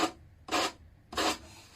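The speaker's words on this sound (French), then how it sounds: "Petit coup de papier pour casser les angles." Sandpaper rubs the edges of a wooden dovetailed box in three short rasping strokes, close and distinct with brief pauses between them.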